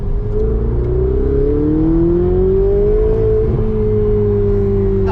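A Ferrari 488 Spider's turbocharged engine drones loudly and steadily, its pitch climbing and then holding as it drops gears, with no talk over it.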